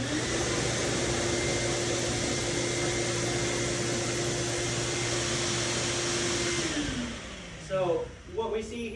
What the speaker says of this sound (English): I have a vacuum down here, and this on switch is